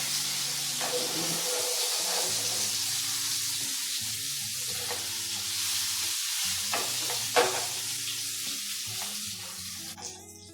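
Brinjal slices frying in a pan make a steady hiss and sizzle, with occasional scraping and stirring clinks near the end.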